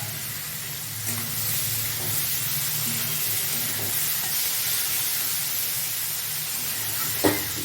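Biulir (urad) dal frying in a pan with stirring, giving a continuous even sizzle close by and a small sharp knock near the end, with no voices.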